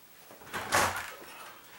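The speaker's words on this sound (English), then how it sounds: "I have not adjusted this door or anything since I just did the video. See, now it closes fine." A 20-minute fire-rated door swings shut on its closer, a soft close and latch at moderate volume, standing alone without talk.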